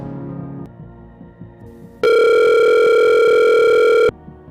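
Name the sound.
telephone ringing while calling a friend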